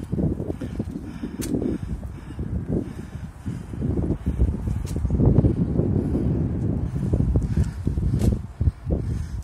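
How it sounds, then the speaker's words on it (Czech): Wind gusts roar and buffet the microphone atop the tower of Stránov castle, a continuous low rumble that swells and eases over several seconds, loud and close. "Nádherně to fouká."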